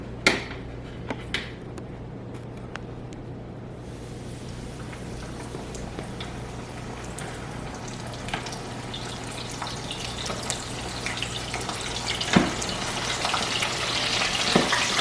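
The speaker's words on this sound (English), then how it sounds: "So now it's time to go ahead and put these babies in the fryer." Seasoned chicken pieces deep-fry in a fryer with a dense, steady crackling bubble that swells slightly louder toward the end, a few knocks early on, close and without talk.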